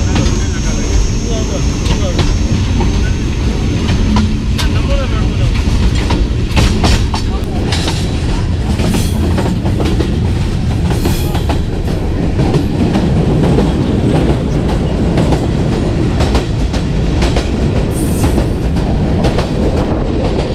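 The Jand passenger train in Pakistan runs on its rails, heard from the guard van as a loud, continuous rumble with rhythmic wheel clatter and occasional metallic clanks throughout.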